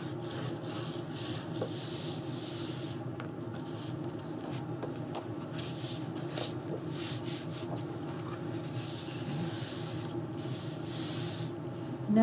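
Score tape on paper being burnished for a wedding album, a soft, continuous rubbing and scraping that comes in repeated strokes, close and fairly quiet.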